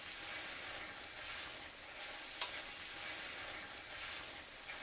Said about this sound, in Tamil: இப்ப குழம்பு நல்லா கொதிச்சுட்டு இருக்கு